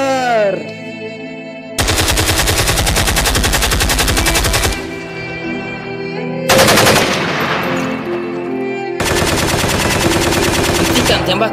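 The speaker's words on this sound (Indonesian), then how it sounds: "Hentikan tembakan, hentikan." Staged gunfire effect in a school theater play: long bursts of rapid automatic fire, loud and close, separated by gaps of lower background sound with a faint voice.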